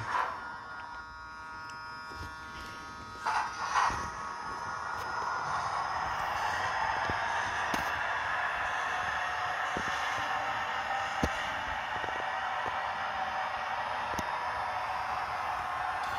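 A Lematec HO scale model locomotive, number 6540, fitted with an ESU v5 sound decoder starts up: a few soft clicks, then a steady electric hum and whine that builds after a few seconds and holds at an even level.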